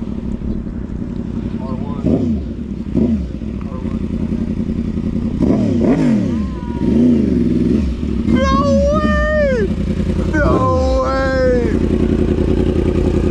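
A motorcycle at a car meet revs several times with rising and falling engine pitch, close and loud, while people talk excitedly over and between the revs.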